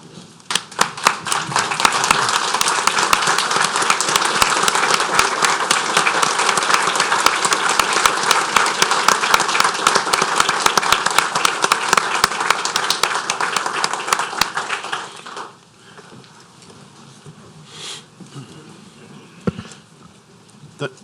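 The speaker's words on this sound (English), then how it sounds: "give the service that Steve Stefancik paid to this community a round and round of applause" Applause from the audience at a parish council meeting, dense and steady for about fifteen seconds, then it stops abruptly and leaves a quiet room with scattered faint noises.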